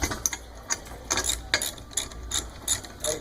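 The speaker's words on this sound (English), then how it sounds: "you can get a 5/16 Allen wrench. It goes on your ratchet, and it makes this assembly go much quicker." A ratchet fitted with a 5/16 Allen wrench snugs bolts on a ramp handrail, quick repeated clicking of the pawl in short bursts, close and crisp against a quiet background.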